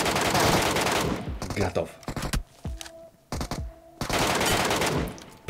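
Bursts of automatic gunfire with incendiary rounds in PUBG Mobile's Metro Royale mode, dense loud volleys at the start and end with short gaps between, and someone speaking briefly in the pauses.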